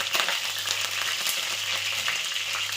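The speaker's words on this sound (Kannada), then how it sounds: "ಸಾಸಿವೆ ಕಾಳನ್ನು ಹಾಕಿದೆ" Mustard seeds crackle and splutter in hot oil for a Karnataka-style brinjal curry, a steady dense sizzle with quick popping bursts throughout, close and fairly loud, no talk.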